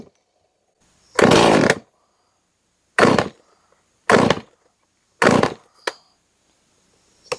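A Stihl MS311 chainsaw, rebuilt with mild porting and a muffler mod, fires in short loud bursts: one longer rev, then three brief ones and a quick blip, separated by silence as it is started and tuned, close, no speech.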